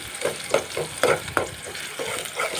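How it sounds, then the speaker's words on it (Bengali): Onions fry in a pan with a soft steady sizzle while a spatula stirs them, giving rhythmic scraping strokes, close and moderate in level, with no talking. "আমি কষিয়ে নিব পেঁয়াজটা এখন একটু নাড়াচাড়া করে দিচ্ছি"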